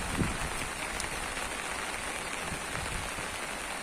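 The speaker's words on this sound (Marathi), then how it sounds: "पाऊस चालू आहे पाऊस सुरू आहे" Steady rain patters down without a break, a dense hiss of drops falling on surfaces for the whole stretch.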